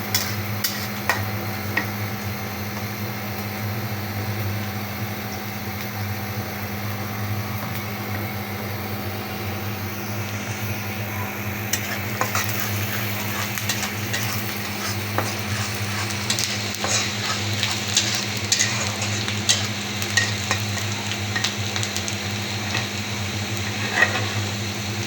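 Onion and garlic frying in a pan, a faint continuous sizzle under a steady low hum, with scattered light clicks and crackles growing busier toward the end, and no one speaking.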